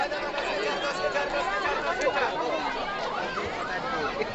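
Dense crowd chatter fills a packed Mina Bazar fair at a Gayatri Mandir consecration in Remunda Village, many overlapping voices forming a steady, close babble with no pauses.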